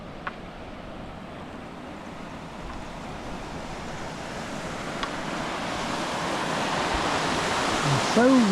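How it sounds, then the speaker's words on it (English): Flowing water of the River Stour running past open parkland, a steady broadband rush that swells slightly louder toward the end, heard alone without any talk. "And so we come across River Stour again"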